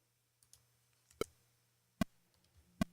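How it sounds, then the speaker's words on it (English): A Pro Tools metronome click track at 75 BPM playing straight quarter notes, with sharp, evenly spaced electronic ticks against near silence and a faint low hum underneath. "let's listen to our click track"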